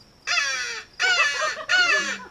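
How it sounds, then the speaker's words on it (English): Three loud, harsh caws from a crow nearby, evenly spaced with short gaps between them and quiet outdoor background. "I heard a crow call out"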